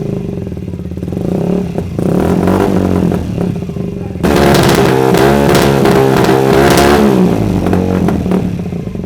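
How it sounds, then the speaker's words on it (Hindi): A 2016 Honda CBR 125 motorcycle engine, Islamabad registered, idling loud and close and then revved hard, with a sudden jump to a sustained high-revving roar halfway through and no talking. "ये देखा आपने sound test complete review of Honda CBR 125 2016 का मॉडल"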